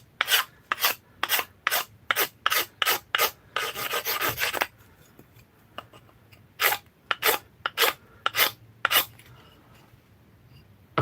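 A steel card scraper finishing the wooden handle of a cobbler's hammer at a workbench: about ten quick, rhythmic rasping strokes, a longer continuous scrape, a pause, then another run of strokes, close and alone.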